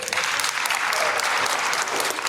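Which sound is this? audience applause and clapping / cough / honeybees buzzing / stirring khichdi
audience applause and clapping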